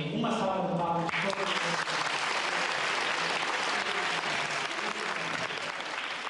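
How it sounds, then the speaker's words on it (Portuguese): An audience at a rural Portuguese community gathering breaks into a dense, steady round of applause that fills the whole stretch after a brief voice at the start. "Uma salva de palmas."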